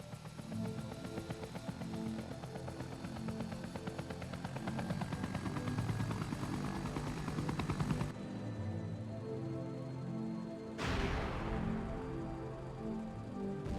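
Resident Evil game soundtrack with a steady helicopter rotor thrum and bursts of gunfire-style effects, shifting abruptly partway through before the loud mix resumes.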